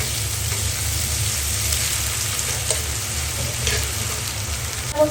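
Ginger-garlic paste hits a hot pan of oil and fries with a loud, steady, dense sizzle. A few faint clinks of a utensil come through, and a sharper tap lands at the very end.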